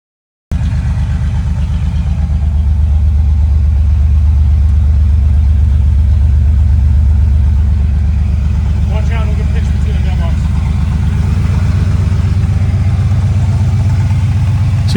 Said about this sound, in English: So you hear those fan noises as I'm backing out of the driveway there?